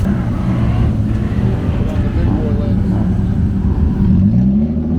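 A drift car with an SR20 chassis swapped to a built, naturally aspirated 3.8-litre V6 revs loudly and steadily up close at a raceway drift event, its engine drone dense and continuous while people talk over it.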